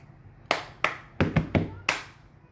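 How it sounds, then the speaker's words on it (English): Hands clap six times for the cup song, in sharp close bursts with two quick pairs among them, with no talking over the claps. "So the first thing that you do is you want to clap your hands two times."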